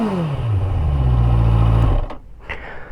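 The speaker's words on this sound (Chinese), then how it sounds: "在原地轰的时候" A QJmotor Race 800 motorcycle engine revs in place with the clutch in first gear: a loud, close roar that falls to a steady held pitch, then cuts off abruptly.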